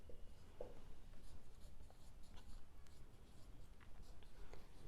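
A pen writes on paper while a math problem is worked through in a classroom lesson, giving faint, steady scratching strokes over a low room hum, with no speech.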